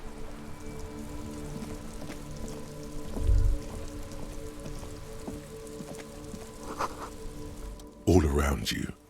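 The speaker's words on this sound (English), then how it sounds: "All around you, rain fall." Steady rain falls in the video game Disco Elysium, a continuous pattering of drops against a low ambient drone, with a couple of brief heavier thumps and rustles.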